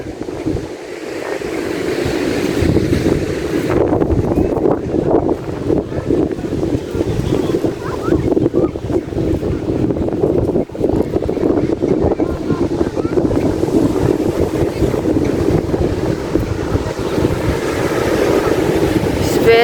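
Big sea waves and strong wind heard from a boat approaching a beach, a loud, steady roar of rushing water and buffeting gusts that never lets up.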